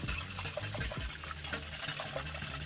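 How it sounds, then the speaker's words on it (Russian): Room-temperature water poured into samsa dough mixture of egg and salt, a faint steady splashing stream with small irregular liquid sounds, close and quiet. "Выливаем 300 мл воды комнатной температуры."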